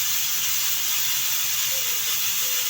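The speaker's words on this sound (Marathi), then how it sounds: "मस्त अशी एक कुकरची शिट्टी झालेली आहे बघा इथे." A pressure cooker whistle on a gas stove, cooking masala brinjal, gives a steady loud hiss of escaping steam that runs the whole time with a faint mechanical rattle underneath.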